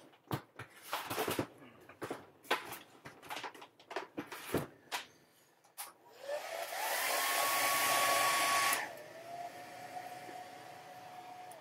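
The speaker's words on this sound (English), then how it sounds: "let me see if I can hit this with a hair dryer" After a series of clattering knocks, a hair dryer whirs loudly for about three seconds with a rising whine, then winds down and fades.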